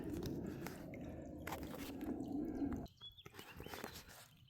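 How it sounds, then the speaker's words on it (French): Water pours and gurgles steadily into a reusable water bottle being filled with filtered water, close and continuous before it stops and a few small drips and handling noises follow. "Voilà, j'ai rempli ma gourde de cette eau."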